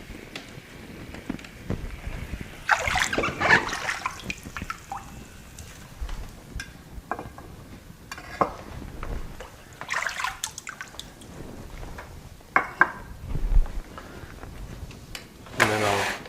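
Microgreen growing trays are dipped in a sanitizing solution, giving irregular bursts of water splashing, sloshing and dripping at close range, separated by quieter pauses.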